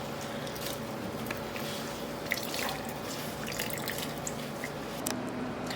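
Water squeezed from grated zucchini drips and trickles steadily nearby, with small wet squishes and splashes over a soft background hiss.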